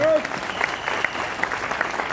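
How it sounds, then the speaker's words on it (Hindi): Applause from a seated audience at a wellness company's business meeting, a moderate wash of clapping with a few faint electronic beeps and a brief vocal sound at the start. "तो वेलनेस के लिए ताली होना चाहिए"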